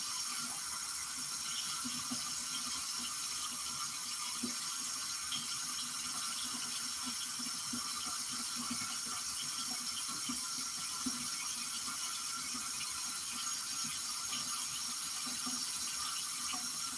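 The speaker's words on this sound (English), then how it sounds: "And I wash my rice until the water comes out clear." Tap water runs steadily into a sink while rice is washed in a pot before cooking, a constant, fairly quiet rush with faint clinks and no talk.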